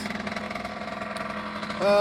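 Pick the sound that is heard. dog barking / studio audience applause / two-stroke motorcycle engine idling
two-stroke motorcycle engine idling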